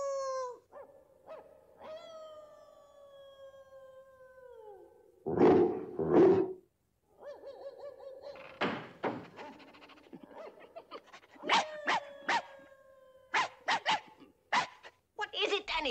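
Dogs barking and howling in the animated 101 Dalmatians twilight bark distress call, a long howl followed by bursts of near and distant barks and yelps echoing across the neighbourhood, with voices speaking over parts of it.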